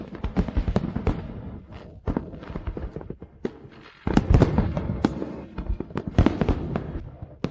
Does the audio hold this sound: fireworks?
yes